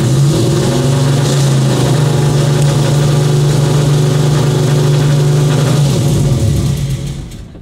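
A 9.3-liter American car engine turns over and settles into a loud, steady rumbling idle with a low droning hum, running strongly for several seconds before trailing off at the end.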